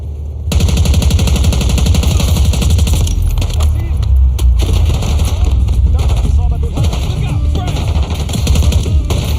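Rapid automatic gunfire from the video game Call of Duty Black Ops 6, loud sustained bursts of shots rattling almost without pause, with explosive cracks scattered through the barrage.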